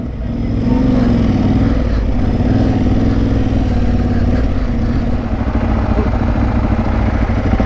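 Electric trail motorbikes overtake on a Yorkshire Dales trail, heard over the steady, loud drone of a nearby motorcycle engine that runs continuously throughout.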